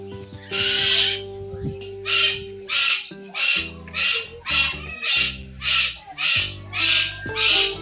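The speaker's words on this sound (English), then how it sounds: "I want to see the rainbow one. Rainbow parrot." Rainbow parrot at a parrot zoo in a Lincolnshire wildlife park, giving loud, harsh squawks repeated in a steady rhythm, about a dozen close calls over a low background hum.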